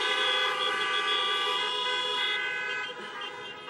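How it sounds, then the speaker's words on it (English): Car horns blare together in a sustained, loud chorus at an outdoor Saskatchewan Party political rally in Regina, many overlapping tones holding steady before a few drop away near the end. "Please give a honk for all of those Saskatchewan Party volunteers across this great province."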